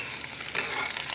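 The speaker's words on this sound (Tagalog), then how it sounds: "Ayan, iprito ko muna ng bahagya yung hotdog." Hotdog slices fry in a pan for spaghetti, a soft steady sizzle with a brief louder crackle midway, no talk.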